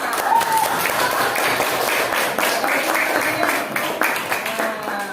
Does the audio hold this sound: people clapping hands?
yes